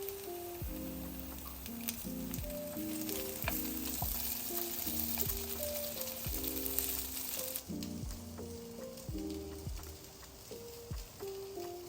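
Slices of banana bread French toast fry in a pan, giving a steady, close sizzle and crackle that runs without a break for about twelve seconds, with no voices.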